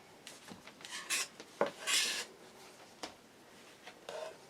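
Quilt fabric being trimmed along a ruler with a rotary cutter: a few brief rasping, rubbing swipes, close and fairly quiet, separated by short pauses.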